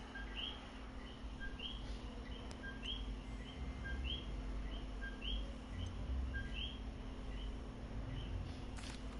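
Birds, charmed from books, chirp in a library: a steady run of short, bright, repeated tweets at moderate distance over a constant low hum, with no talking.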